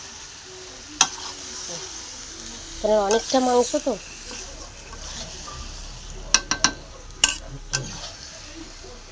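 Chicken frying in a wok, sizzling steadily while it is stirred and flipped, with a few sharp scraping knocks and a brief stretch of nearby speech.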